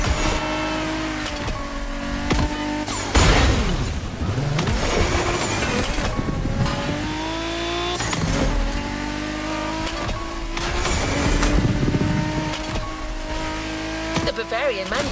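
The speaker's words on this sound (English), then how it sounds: "We have prepared a classic for you from a very famous German brand, BMW Z4 M40i" A BMW Z4 M40i in the video game The Crew Motorfest revs and accelerates through several gear changes, with tires squealing at times and a voice talking over the engine the whole way.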